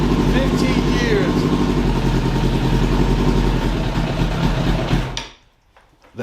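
A 2000 Suzuki Katana 750 motorcycle runs after sitting unused for 15 years, its close, steady engine rumble continuing under occasional voices until it cuts off near the end, leaving brief quiet.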